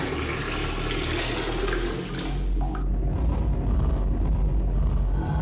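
A toilet flushing aboard a spaceship, a loud, close rush of water that surges and then settles into a steady draining hiss.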